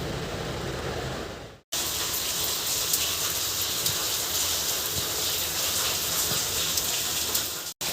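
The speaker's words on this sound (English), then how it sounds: "I'm enjoying this beautiful cloudy rainy weather." Monsoon rain falls steadily on a cloudy day, a loud, dense hiss of drops that runs almost unbroken, cutting out briefly twice.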